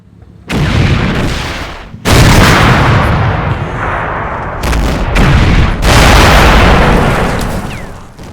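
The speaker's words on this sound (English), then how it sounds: "Shots from two different T-34s kill the entire crew and put the Stug out of action." T-34 tank cannons fire in the Combat Mission war game: two heavy booming shots land about a second and a half apart, each with a long rumbling tail, and further loud blasts and rolling rumble follow, with no talking.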